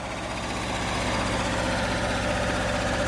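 A Porsche Diesel Standard two-cylinder tractor engine runs at speed, around 2,000 RPM, a loud, close, steady rapid diesel thrum with a fast even pulse.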